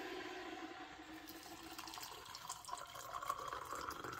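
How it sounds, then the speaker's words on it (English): Mildly hot water trickles and splashes steadily into a container, a continuous liquid pour with faint clinks, close by and moderately quiet. "Let's get some mildly hot water"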